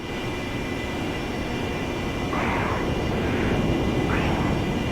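Military jet in DCS World flight over the Persian Gulf, a steady engine roar that swells as the aircraft sweeps past nearby over about five seconds, with no talking.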